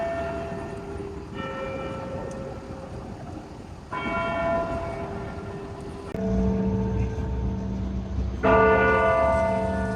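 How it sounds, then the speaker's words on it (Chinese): Hourly chimes from the clock tower bell at Toronto's Old City Hall ring out in several resonant, evenly spaced strikes, each ringing on and overlapping the next, heard fairly clearly over low outdoor background noise. "刚才我们听到了整点的钟声"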